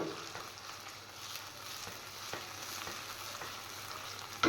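Fish frying gently in a pan over low heat, a steady soft sizzle with occasional light clicks and stirring sounds throughout, no voices.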